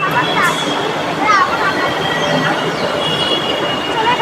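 A Delhi Metro train pulls into a station, loud and close, with squealing wheels, rumbling rail noise and a steady high electrical whine across the whole stretch.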